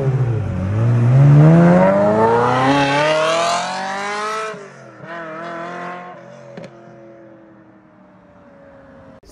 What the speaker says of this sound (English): This has got a Capristo exhaust system on it, a valved Capristo exhaust system.